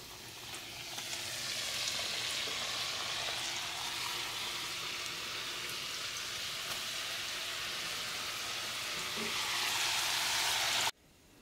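Italian Christmas cookies, scartellate and crostoli dough, frying in hot oil, giving a steady, close, loud sizzle that runs nearly unbroken before cutting off abruptly at the end.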